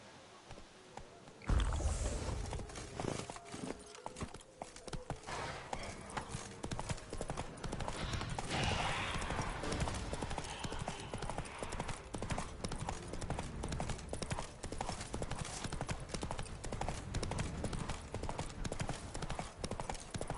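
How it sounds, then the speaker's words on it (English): Steady rhythmic clip-clop of horse hooves at a gallop in The Witcher 3: Wild Hunt, continuous and close, with a busy game background mix throughout. "Let's get my horse."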